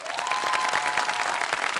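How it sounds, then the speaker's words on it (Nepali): An audience at a televised dance competition show applauds loudly and steadily, welcoming the judges, with a dense, continuous clapping that fills the whole stretch without pause. "जोरदार तालीले स्वागत गरौँ"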